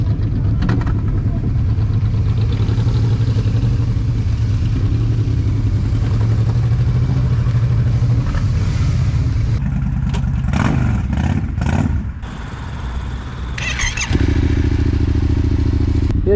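A Yamaha 125 motorcycle engine runs loud and close at a steady rumble, then revs and changes pitch as the bike pulls away.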